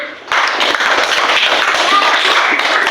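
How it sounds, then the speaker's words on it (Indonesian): A classroom of students claps after a presentation, starting abruptly after a brief quiet moment, with close, loud individual claps forming a lively, uneven burst that continues to the end. "Sudah ya, tepuk tangan."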